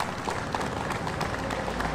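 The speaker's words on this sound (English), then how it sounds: "So please give a round of applause to Secretary Nicole Majeski." An audience at an outdoor press conference marking the end of I-95 road restoration work applauds, a steady, dense wash of clapping from a crowd.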